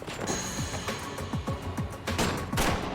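Gunfire exchanged between security guards and armed robbers during a heist, heard as a dense burst of repeated shots over a steady noisy background with a few metallic clanks.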